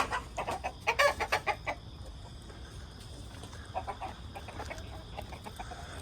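Hens cluck near a nest, a quick rhythmic run of clucks up close at first, then softer scattered clucking over a steady outdoor background.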